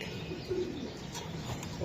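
A racing pigeon gives a soft, brief coo, faint and close amid quiet background noise.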